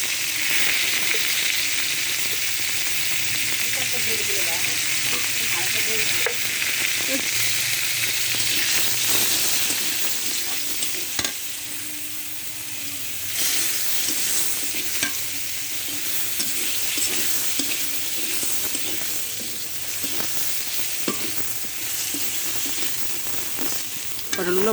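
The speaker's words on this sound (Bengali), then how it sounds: "পটলগুলো ভাজা হয়ে গেছে" Pointed gourd (potol) fries in hot oil in a pan with a continuous loud sizzle, broken by the scrape and clatter of stirring, with no voices.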